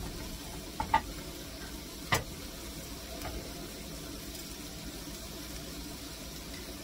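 Fried potatoes sizzle in a hot pan with a low, steady hiss, broken by a few sharp clicks near the start.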